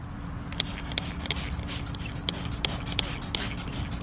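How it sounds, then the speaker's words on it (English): A hand sprayer hisses in short repeated bursts as organic caterpillar-specific bacteria is sprayed onto the bases of squash plants, with steady pump clicks and rustling leaves over a low background hum. "So I'm spraying the bases of all my squash plants."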